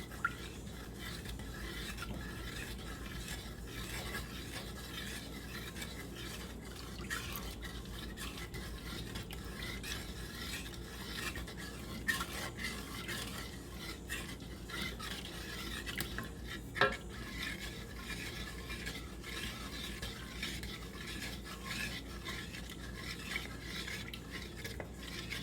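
A utensil steadily stirs pickling liquid for red onions in a pot to dissolve it, with soft continuous swirling and occasional metallic clinks. The stirring is close and even, with no voices.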